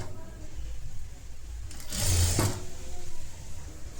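A sewing machine stitches a netted blouse, its fast mechanical whir rising into a brief loud burst in the middle while someone speaks softly around it.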